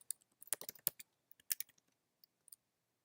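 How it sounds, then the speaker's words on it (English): Keys clatter on a computer keyboard as a username is typed, an irregular burst of quick close clicks with short pauses and a few isolated taps near the end. "I'm going to type in the username."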